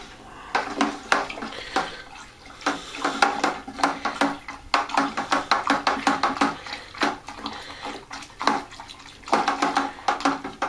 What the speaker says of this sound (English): I'm going to add this to my wine, and I'm going to stir again like a maniac